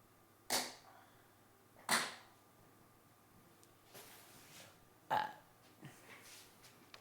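A few short burps at a live build stream, three brief throaty bursts spaced a second or more apart over quiet background noise, with faint softer sounds between them and no clear talking.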